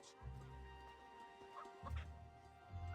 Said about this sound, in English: You gotta kick the chicken.